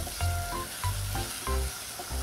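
Choux pastry dough stirred in a pan over a stove burner, giving a steady sizzle broken by rhythmic scraping strokes of the spoon, close and fairly loud with no voices.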